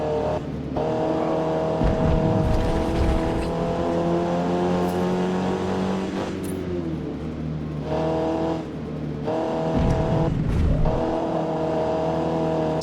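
A race car engine in Forza Motorsport climbs through revs under acceleration, its rising harmonic whine broken by short lifts and gear shifts, loud and steady throughout with no voices.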